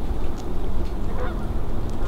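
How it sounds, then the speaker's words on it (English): Geese honking a few times at a distance as they fly by in the wilderness, calls rising briefly over steady low outdoor rumble. "Geese going by."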